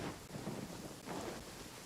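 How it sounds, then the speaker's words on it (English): Steady rain with a low rumble of thunder in the fantasy game Genshin Impact, a soft, continuous hiss with a faint rolling undertone, fairly quiet and without speech. "Какая гроза."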